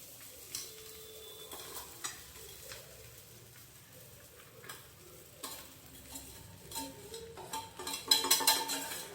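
Sabudana (tapioca pearls) is stirred in a frying pan, giving faint scraping and soft sizzling with light ticking clinks that grow busier and louder near the end.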